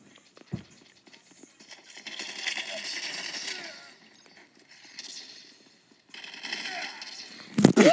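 Bursts of rapid automatic gunfire from a gun in Call of Duty Mobile, sounding as fast rattling volleys at moderate loudness with short pauses between them and a sharp louder shot at the end.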